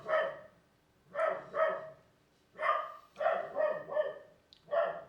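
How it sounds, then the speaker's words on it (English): A dog barks in short bursts, mostly pairs and triplets of sharp barks separated by brief pauses, moderately close and fairly quiet, with no talking. "What you barking at?"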